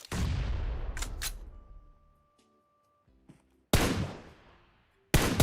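Gunfire from a PUBG Mobile match: a dense, loud burst of shots at first, then a quiet stretch with faint tones, followed by two more sharp loud bursts.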